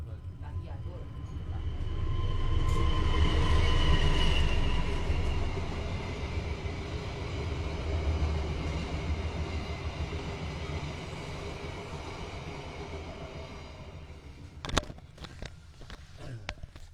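A train rumbles past with heavy low-frequency roar and rattling, loudest early then fading, with a few sharp clanks near the end.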